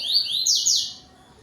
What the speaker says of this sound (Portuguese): coleiro bico amarelo. Ele dá um cante tui-tui bonito